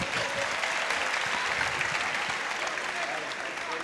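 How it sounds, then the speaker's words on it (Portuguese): Sustained audience applause at a live improv comedy show during the Campus Party tech event, a dense, steady wash of clapping at even loudness throughout. "Salve de palmas pra ele."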